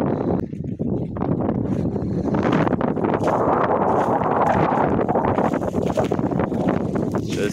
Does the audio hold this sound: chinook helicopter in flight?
no